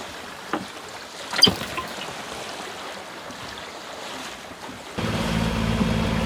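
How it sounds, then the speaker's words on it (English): A small boat travels north along a shoreline, weaving between the shore and a sandbank; water washes steadily against the hull before a louder motor drone and splashing take over near the end, with no one talking. "So Dad's just steering the boat at the moment"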